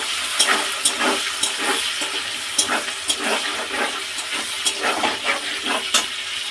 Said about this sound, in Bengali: কেটে রাখা পেঁয়াজগুলো লাল করে ভেজে নেব।